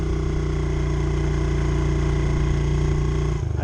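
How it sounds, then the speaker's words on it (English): A Honda XR70 motorcycle fitted with an 88cc BBR big-bore kit and re-jetted carburetor pulls uphill in third gear, its small single-cylinder engine droning loud, steady and close before easing off at the end. "That's third gear pulling me up this hill."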